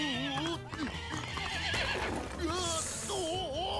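Anime horse neighing and whinnying in several rising and falling cries over galloping hooves, loud and close, with music and a reacting voice underneath.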